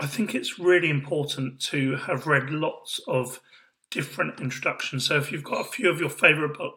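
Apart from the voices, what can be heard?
No everyday noise stands out behind the speech.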